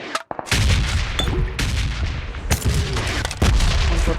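Gunfire in a PUBG match at Pochinki, with an M4 among the weapons: sharp loud shots and bursts crack repeatedly over a dense rumbling background, with heavy reports near the start, middle and end.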